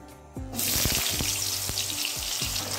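Cut potatoes hit hot salted oil in a pan and burst into a loud sizzle that keeps crackling, with a few clanks of a utensil against the pan.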